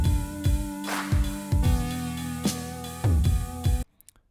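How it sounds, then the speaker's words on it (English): An electronic beat with punchy kick drums, snare claps, cymbal hits and toms under a sustained synth chord, ending abruptly before a couple of faint trailing hits. "It's got a kick track, a snare and clap track, a cymbals track, a tom track, and a synth track"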